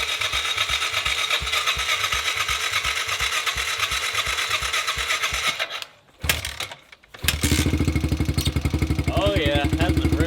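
Motorcycle that has sat unused for months being started: a rapid, rhythmic engine chatter, a brief pause, then the engine catches and runs at a higher, even idle, loud and close.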